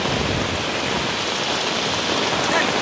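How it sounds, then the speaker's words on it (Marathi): Heavy monsoon rain pours over a flooded residential area in Nalasopara as a steady, dense, close wash of noise with no breaks and no audible voices. "पाऊस एवढा येतो अजून."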